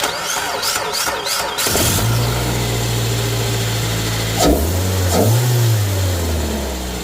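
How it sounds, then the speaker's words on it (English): A Suzuki SX4 engine cranks briefly with a rhythmic starter whir, then catches and fires, settling into a steady idle with a couple of revs blipping up near the mic. "we'll see if it cranks and start the engine"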